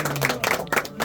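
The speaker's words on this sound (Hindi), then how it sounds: "बजाओ ताली।" A brief burst of audience clapping rings out at a Shiv Baba aarti during a welcome for saints in Gandhinagar Sector 28, with several quick uneven claps packed into about a second.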